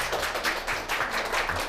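A studio audience at a Korean lecture show claps steadily in a brief, even burst to welcome a speaker to the stage.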